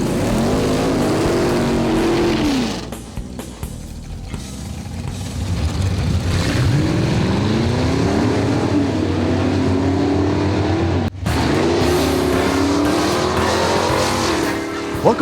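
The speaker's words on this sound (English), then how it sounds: "walking down the line of cars as they were waiting to fire down the quarter mile of blacktop" Drag racing cars lined up for the quarter mile rev their engines, rising and falling roars up close, one cutting off abruptly before another throttle sweep, with a steady engine drone throughout.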